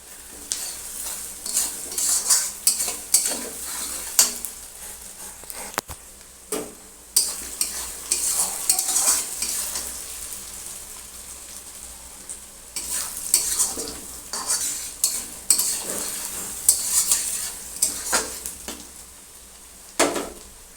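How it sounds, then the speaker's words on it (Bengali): Onions sizzle in a pan for a roti and tarka dinner, with repeated scraping strokes of a spatula stirring them, loud and close, continuous with no talking. "পেঁয়াজটাকে আমি লাল লাল করে ভেজে নেব।"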